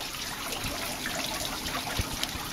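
Meltwater dripping and trickling off an Alaskan glacier, a steady close wash of running water with scattered soft drips on top.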